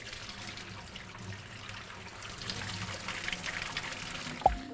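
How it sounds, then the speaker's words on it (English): Water pours out of a filter in a steady, fairly faint stream, a continuous trickling wash over a few seconds that ends with a small clunk. "I'm gonna have to take the filter itself and just pour out all the water from it"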